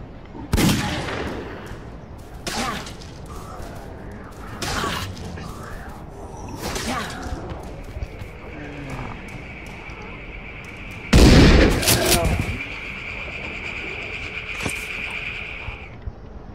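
Gunfire in the zombie survival game Dead Age: several sharp, widely spaced shots over a busy game soundscape, with one louder, heavier blast near the middle and a sustained tone afterward.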